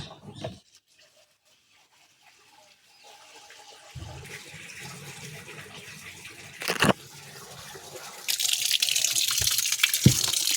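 Water gurgles and rushes as a washing machine drains, rising to a steady splashing flow with a couple of brief louder spurts.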